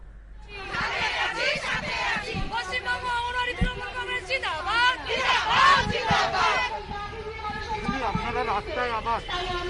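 A crowd at a women's protest march in Kolkata, led by Trinamool Congress women, with a steady babble of many voices, shouted slogans and chanting close by.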